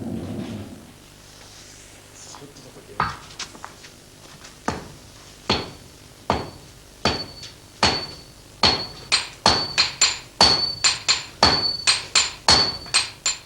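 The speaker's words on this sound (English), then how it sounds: "The process starts with a lump of crude iron. It is purified by hammer blows" A hammer forges a lump of crude iron for a Japanese sword. Sharp ringing metal blows start sparse and grow faster and louder into a steady close rhythm.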